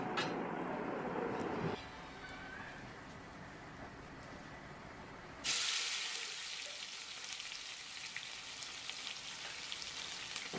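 Half a kilo of long-sliced onions fry in hot oil with red chillies for a dhaba-style chicken handi, a steady sizzling hiss that drops back and then surges loudly again midway, close and without talk.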